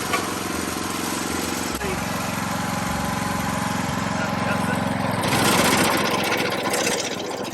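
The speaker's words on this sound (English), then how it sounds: "So this is the turf cutter I hired." A hired turf cutter for a backyard lawn makeover runs steadily up close, its engine droning without pause and swelling a little louder near the end, with no one speaking.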